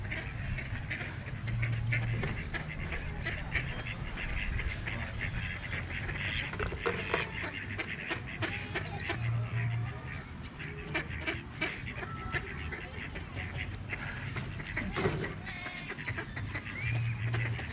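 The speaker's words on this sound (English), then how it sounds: "Looks to be mallards for the most part" A large flock of mallard ducks, males and females together at a holiday park by the water, quack continually in overlapping calls, close and far, under steady outdoor noise.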